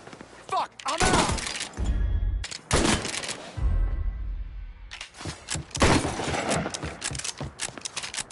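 Gunfire erupts in the video game Mafia III as bursts of sharp shots and debris crashes, with a voice talking and shouting between the volleys.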